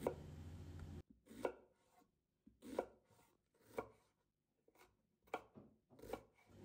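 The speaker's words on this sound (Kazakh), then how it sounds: "Мінекей пиязымызды да осылайша етіп 4 бұрышты" A knife chopping onion into small squares on a board, a series of sharp, close, irregular cuts with quiet pauses between them.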